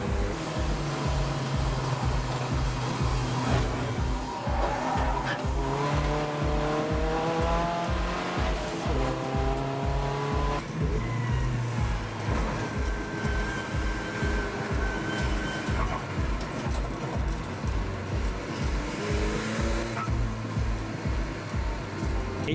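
Race cars lapping Anglesey circuit, an Audi TT among them taking the very fast right-hander at Church through traffic; loud, continuous engine roar with rising and falling revs as several cars pass close by.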